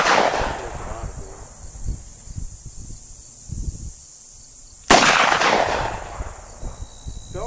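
Gunshots fired at a Level IIIA vest during a ballistic test outdoors, two sharp loud cracks several seconds apart with echoing tails and rustling in between.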